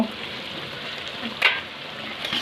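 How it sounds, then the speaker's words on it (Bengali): Chicken braising in a pan with tomato sauce just added gives a steady, moderately loud sizzle as it is stirred, with one brief sharper scrape of the spoon midway. "তো সস অ্যাড করার পর আমরা একটু নাড়িয়ে নেব।"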